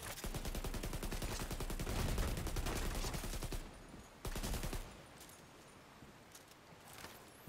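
An assault rifle fired on full auto in the game The Division 2, a rapid unbroken stream of loud shots lasting several seconds, a short pause, then another brief burst before it falls quiet.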